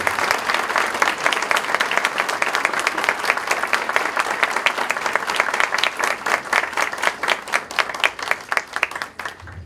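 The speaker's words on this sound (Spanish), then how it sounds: "un aplauso para él" Sustained applause from an audience at an academic awards ceremony for top students, dense steady clapping filling the room, fading slightly toward the end.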